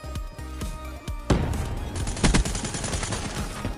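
Gunfire in the video game Black Ops 3 hardcore mode: a burst of rapid automatic shots erupts after a quieter stretch of scattered single shots, staying loud and dense to the end.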